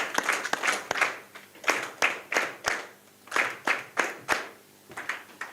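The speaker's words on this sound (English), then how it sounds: "I want us to give her the 4 hearty claps 3 times." A conference audience claps in hearty rhythmic groups, sharp unison claps in short bursts with brief pauses between sets, loud and close.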